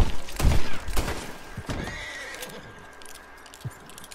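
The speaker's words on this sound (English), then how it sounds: "Bullet, you were a good horse." A horse in a western-themed video game whinnies loudly several times in quick succession, with hoof clip-clops mixed in, then the sounds fade into quieter background noise with a faint thump near the end.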